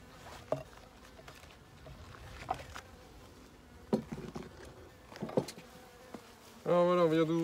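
Honeybees in an opened Dadant hive, a low, steady buzz broken by scattered knocks and handling sounds, ending in a loud, close buzzing drone as a bee passes near.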